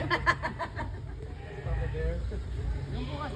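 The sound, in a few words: goat bleating at safari park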